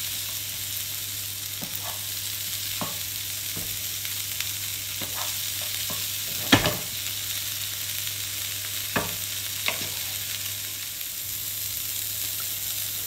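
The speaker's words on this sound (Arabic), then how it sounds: "غنضيف البروكولي وغادي نشحرو حتى هو واحد 4 دقائق تقريبا." Broccoli stir-frying in a hot pan gives a steady close sizzle, with occasional clicks and scrapes of stirring, no talking.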